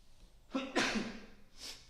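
A single sudden sneeze from a person with a slight cold bursts out after a sharp intake of breath, followed by a short exhale, close and loud.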